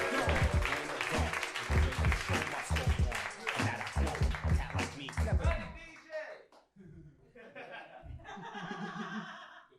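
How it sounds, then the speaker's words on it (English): Comedy roast-battle crowd clapping and cheering as a wrestler-persona comic is brought to the stage, mixed with loud, thumping walk-on music and laughter, then thinning out as a voice speaks over the fading noise. "Start clapping your hands right now for Scott Hall!"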